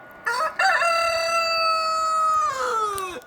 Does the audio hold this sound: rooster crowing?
yes